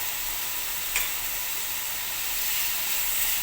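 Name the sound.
butter added to cooking shrimp, sizzling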